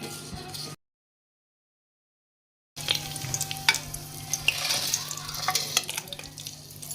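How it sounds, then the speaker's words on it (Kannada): Whole spices (cinnamon, peppercorns, cardamom) frying in hot oil for bagara rice, a soft steady sizzle with occasional stirring clinks, heard after a stretch of complete silence at the start. "ಒಣ ಮಸಾಲೆ ನೋಡ್ರಿ ಒಂದ್ ಸ್ವಲ್ಪ ಫ್ರೈ ಮಾಡ್ಕೊಳ್ಳೋಣ್ರಿ"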